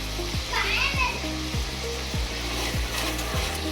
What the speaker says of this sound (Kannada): ಈಗ ಹಸಿಮೆಣಸಿನ್ಕಾಯಿ ಹಾಕೊತಾ ಇದ್ದೀನಿ.